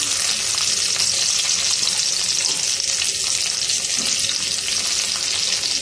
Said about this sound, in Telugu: ఇప్పుడు అందులోకి కట్ చేసుకున్న ఉల్లిపాయ వేసుకుందాము